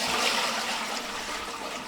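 Water pours steadily into bread dough for a wheat loaf with roasted onion, a continuous close splashing stream that runs the whole stretch without talk.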